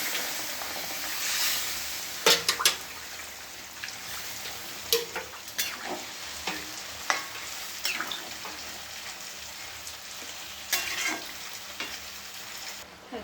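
Prawn curry with potatoes sizzles steadily in a pan while a utensil stirs it in sharp scraping bursts, close and fairly loud, with no talking.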